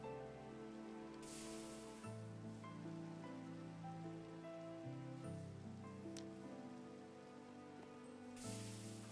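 Rain falls steadily in the Minecraft video game, a soft, even patter that stays faint and continuous throughout, with no talking.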